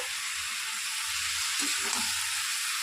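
Vegetables with cumin and ginger paste and a little ground coriander fry in a pan, giving a steady soft sizzle with a few faint stirring bumps and no voices.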